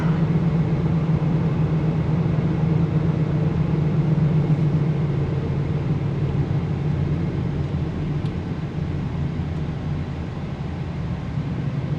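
Steady broadband hiss and low rumble inside a car on a roughly 91-degree day, with the air conditioning blowing continuously at a constant, fairly loud level and no voices.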